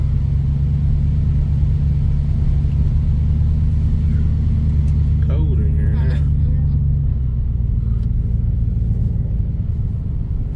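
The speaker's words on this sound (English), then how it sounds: "This truck here's got a brand new motor in it, so it runs like a top." A truck with a brand-new motor drives along a road near Lexington, its low engine rumble steady and close throughout, with a voice talking briefly over it from the cab.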